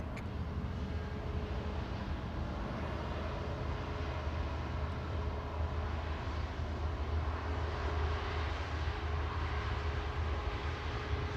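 Airbus A320 airliner at Manchester Airport, a steady broadband engine roar held at an even level throughout, moderately distant with no voices over it.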